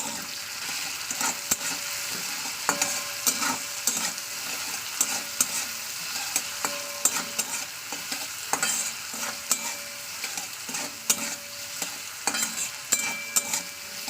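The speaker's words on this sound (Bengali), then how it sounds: "এবার আমি এটাকে ভালো করে একটু তেলের সঙ্গে মাখিয়ে নেবো" Flattened rice with salt and turmeric being stirred and fried in oil for a pulao, a steady sizzle broken by frequent scraping strokes of the spoon, close and fairly loud throughout with no talking.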